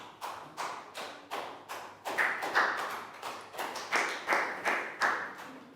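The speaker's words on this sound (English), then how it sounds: "big round of applause for down" Classroom round of applause for a student during a Year 3 English lesson; a small group claps in quick repeated bursts, with about fifteen sharp, evenly spaced claps over several seconds.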